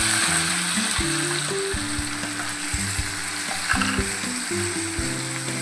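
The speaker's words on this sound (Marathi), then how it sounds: "चांगलासा ठेचा आपण तेलामध्ये मस्त असं परतू" Crushed green chili thecha frying in hot oil, a steady loud sizzle with clinks of a spoon stirring it against the pan throughout.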